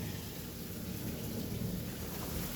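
A thunderstorm with heavy rain and hail gives a dense, steady roar of downpour with a low rumble underneath, continuous and without any voices.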